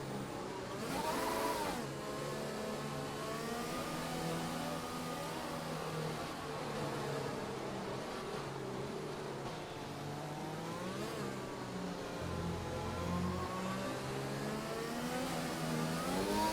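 Engines of F1 racing cars in an F1 esports video game race at the Singapore Grand Prix, a continuous high-pitched whine with shifting revs and gear changes running steadily throughout, with no talk.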